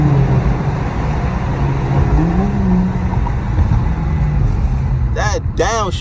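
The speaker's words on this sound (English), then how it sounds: "That downshift though, bro." A car engine drones and shifts pitch as it downshifts while driving through New York traffic, a loud, close rumble with rising and falling tones, joined near the end by a voice speaking over it.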